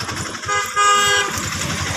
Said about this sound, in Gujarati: જોજે રિક્ષા કેવી આવી ત્યાં રિક્ષા આવે